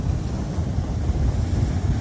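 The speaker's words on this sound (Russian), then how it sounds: "Волны какие, а?" Sea waves crashing by a pier in strong wind, a steady roaring wash of surf heavily masked by loud wind buffeting on the microphone.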